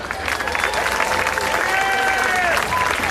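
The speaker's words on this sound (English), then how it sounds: "Please give them all a round of applause" An audience at a Diwali SA 2013 event applauds the volunteers with steady, dense clapping throughout, voices and cheers mixed into the crowd noise.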